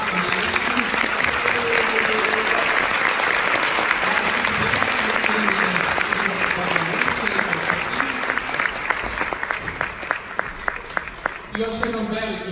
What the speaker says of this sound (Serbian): Još jednom velikim aplauzom